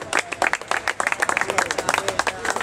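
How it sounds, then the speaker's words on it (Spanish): A crowd at a rap battle bursts into loud, sustained applause, dense rapid clapping filling the whole moment with a few voices cheering underneath. "¡Un fuerte aplauso!"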